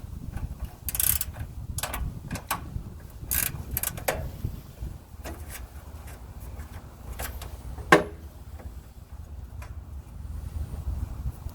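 Wrench working a 7/16 nut loose on the solenoid of a Simplicity Sunstar mower: a run of irregular metallic clicks and ratcheting ticks up close, with one sharper clank near the end and no talking.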